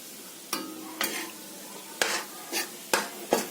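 Maida flour stirred in ghee with roasted lentils for malai laddu, a steady soft sizzle broken by about six sharp scraping strokes of a spoon against the pan, close and fairly quiet.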